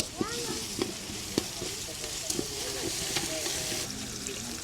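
Jaffna biryani sizzles steadily in a pan while a utensil scrapes and stirs, with a few sharp clinks against the pot.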